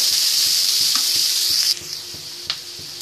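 Onions and curry leaves sautéing in a pan for egg curry, a steady hiss with soft regular taps and scrapes of a stirring spoon, the sizzle easing slightly partway through.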